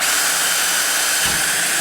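A power drill whines loudly and close while boring a hole during installation of a Works Connection Pro launch start device, a dense steady roar that shifts slightly in pitch near the end.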